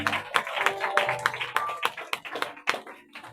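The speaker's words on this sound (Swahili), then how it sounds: "Tupige makofi mazuri." A church congregation claps together, a dense run of hand claps in loose rhythm, fairly close and lively, with scattered voices mixed in.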